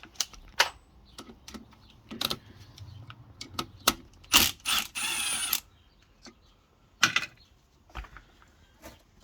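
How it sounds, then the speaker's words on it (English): A socket wrench removes the 8 mm top screw from a Toyota alternator during teardown, giving sharp close metallic clicks and ratchet bursts in irregular clusters, with one longer rasping spin near the middle. "take off the main screw up here at the top. 8 mm on that"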